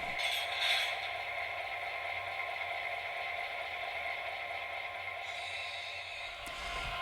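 An HO scale Atlas GP7 model locomotive with sound runs at throttle notch 1, giving a steady, even mechanical hum and whir with a constant low drone and no break, close and alone.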